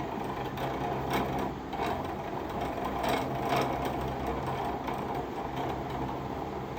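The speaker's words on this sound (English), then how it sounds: "You have to spin it onto the bobbin before we start using them for the weave." Thread is spun onto a bobbin on a winding device in preparation for kente cloth weaving, producing a continuous close mechanical whirring with a faint rhythmic pulsing throughout.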